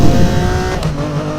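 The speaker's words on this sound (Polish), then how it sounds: "jadę swoim Lambo ze złamanym lusterkiem" A Lamborghini with a broken mirror races in Need for Speed Most Wanted 2012, its engine loud and close, revving hard with a brief shift dip and a faint tire squeal.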